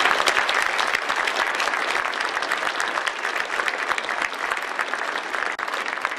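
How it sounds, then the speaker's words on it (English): Audience applause for distinguished speaker Ken Peterman at a Trine University lecture, dense sustained clapping from a full room that keeps an even level for the whole stretch. "Let's begin by giving Mr. Peterman a round of applause"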